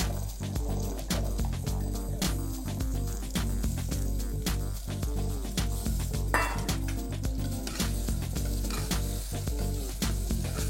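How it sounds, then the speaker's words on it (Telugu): Boiled rajma and chole roasting in ghee and oil, a dense continuous sizzle with frequent rapid clinks and scrapes of a utensil tossing them in the pan, close and steady for the whole span. "వీటిని కొంచెం నెయ్యి ఆయిల్లో టాసే అవ్వాలి, కొంచెం మంచిగా రోస్ట్ అయ్యే వరకు విల్ జస్ట్ కుక్"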